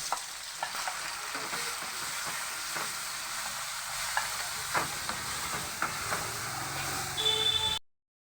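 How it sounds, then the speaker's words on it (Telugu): Tomato paste sizzles and fries in a pan on the stove, steady crackling broken by repeated scraping stirs of a spoon, close and moderately loud before cutting off abruptly. "ఇది టమాటా పేస్టు మగ్గిపోయింది"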